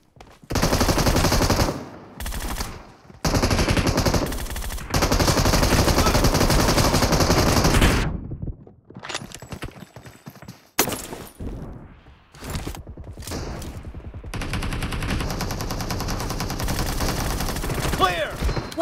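Rapid automatic gunfire in a video game, long loud sustained bursts broken by short gaps and single shots, with game voice callouts heard between bursts.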